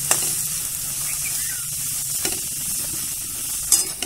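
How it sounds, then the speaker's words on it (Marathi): Ground dried coconut, garlic and cumin roasting in hot oil, a steady close sizzle with light stirring scrapes and a couple of sharper clicks, no voices. "आता हे वाटलेलं आपण वाळलेलं खोबरं, लसूण आणि जिरं आता हे ह्याच्यात चांगलं तेलात भाजून घ्यायचं"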